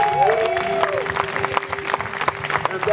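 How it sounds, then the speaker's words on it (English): Crowd clapping at an outdoor church gathering in a park, sharp scattered claps rising through the clip while a held musical tone and faint voices sit underneath. "Come on, clap your hands for Acts 2:42."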